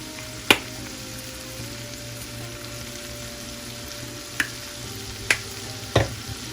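Seasoned chicken sizzles steadily in a frying pan under a low hum, while a few sharp stirring knocks and scrapes come at irregular intervals and no one talks.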